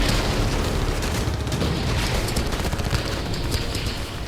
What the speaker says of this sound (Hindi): अब बाखमुत की तस्वीरें देखिए। ताबड़तोड़ गोलियां चल रही हैं।